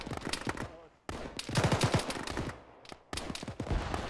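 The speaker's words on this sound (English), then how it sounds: "What's shooting at us?" Rifle fire in the military shooter Arma rattles in quick bursts and single cracks, with brief silences between volleys and a few clipped voice sounds mixed in.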